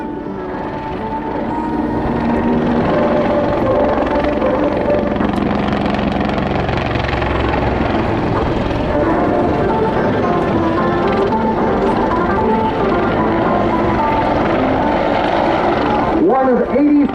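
CH-146 Griffon military helicopter flying displays at the 2011 Great Lakes International Airshow, a loud continuous rotor and engine drone that swells as it climbs and descends near the ground.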